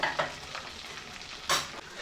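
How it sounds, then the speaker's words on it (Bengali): Chicken pieces lightly frying in a pan for a restaurant-style Chicken Afghani, a steady close sizzle broken by two louder stirring scrapes. "একই রকমভাবে আমি সবগুলো চিকেনকে হালকা করে ভেজে নেব।"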